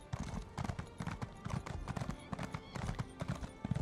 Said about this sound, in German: Unser Pferd ist so langsam,